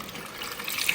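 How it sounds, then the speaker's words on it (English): Water pours steadily into cassava dough for homemade tortillas, a continuous close splashing trickle that runs alone for about a second. "Add water"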